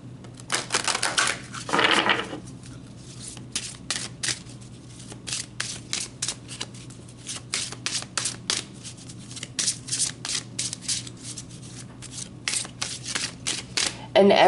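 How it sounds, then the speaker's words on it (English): Tarot cards are shuffled by hand during a reading, giving a steady series of sharp, close papery flicks and riffles that run through the whole stretch, with a louder burst of handling near the start. "Let's pull some more cards."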